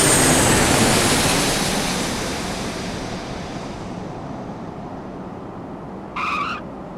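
A miniature KLM airliner model lands on a small model runway, a broad rushing roar that slowly fades, followed by a brief chirpy sound near the end.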